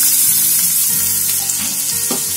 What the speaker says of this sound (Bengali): পেঁয়াজটাও দিয়ে আমি 2 মিনিট পর্যন্ত ভালো করে ভেজে নিচ্ছি মিডিয়াম ফ্লেমে